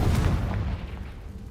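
Confringo blasting spell going off in the video game Hogwarts Legacy, a single loud booming blast with a deep low rumble that fades over about a second.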